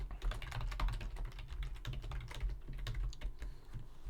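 Rapid, continuous clatter of keys on a computer keyboard as someone writes C# code, close and steady for the whole stretch with no pauses.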